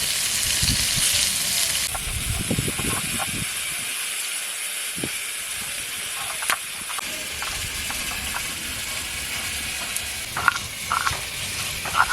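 Pointed gourd stuffed with shrimp filling fries in a pan in a village kitchen, a continuous hissing sizzle with occasional soft knocks and clicks.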